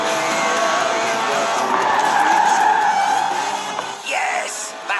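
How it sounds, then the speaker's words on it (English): Lotus Elise, light and 190 horsepower from a 1.8-litre engine, drifting in Forza Horizon 4, a loud sustained tyre squeal that holds for several seconds, then fades as a faint crowd cheer rises. "Yes, that's it. The honourable art of drifting."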